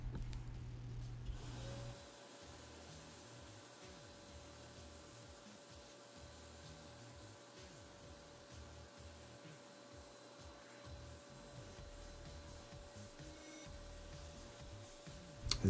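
A vacuum cleaner with a brush extension cleans a Lego Technic 42096 model, giving a steady, faint motor hum with soft brushing and rubbing scrapes throughout, and no talking.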